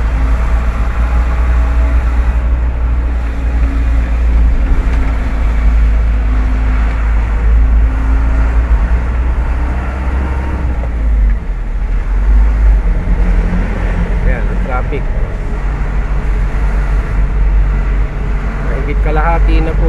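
Heavy, steady road traffic on a highway toward Aliaga, a constant low rumble of engines and tyres heard from close range, with a voice talking over it.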